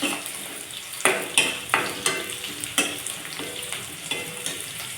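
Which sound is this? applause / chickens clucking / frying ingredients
frying ingredients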